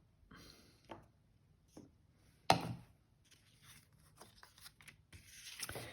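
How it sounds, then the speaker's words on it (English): Scissors snip through a stamped paper card piece in a handful of separate crisp cuts with a louder snip midway, close and quiet with pauses between. "I'm going to cut them with my scissors"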